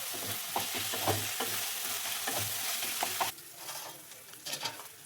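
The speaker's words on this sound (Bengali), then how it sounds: "দিয়ে এটাকে ভালো করে ভেজে নেব।" Spiced chicken momo filling with turmeric, cumin, chili and black pepper fries in a pan, a loud sizzle with repeated scraping stir strokes that drops to a quieter crackle partway through.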